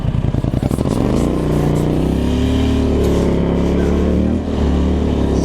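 Polaris Scrambler ATV grinding through deep snow ruts in a blizzard, its loud close engine rising and falling in pitch as it revs and labors in two-wheel drive.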